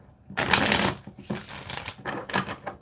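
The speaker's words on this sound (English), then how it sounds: "One more shuffle." A deck of tarot cards is shuffled close by: a dense riffling burst, then a few shorter rustling flurries of cards, with no talking over it.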